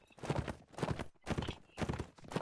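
Horse hooves clip-clopping in a video game clan war match, steady rhythmic bursts of trotting with a brief pause, fairly loud and alone with no talk over them.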